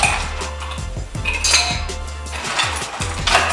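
Ice going into a metal cocktail shaker tin for a cucumber jalapeño spicy margarita, a run of close, bright clinks and clattering knocks as the cubes tumble in and settle against the tin.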